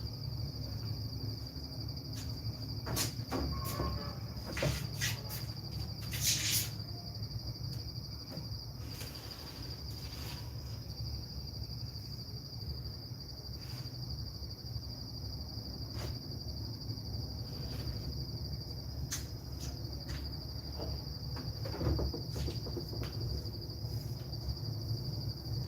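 Many crickets and other insects chirp steadily through a night scene, a dense high-pitched drone with sustained tonal bands continuing alone for the whole span, with occasional brief clicks and rustles nearby.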